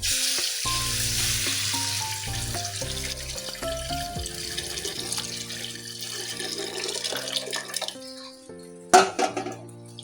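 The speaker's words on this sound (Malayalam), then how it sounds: "ഇതിലേക്ക് നമുക്ക് പുളിവെള്ളം ഒഴിച്ച് കൊടുക്കാം." Tamarind water poured into a pan of sizzling sardine curry, a steady frying hiss with watery splashing and clinks, ending in a few louder pan knocks near the end.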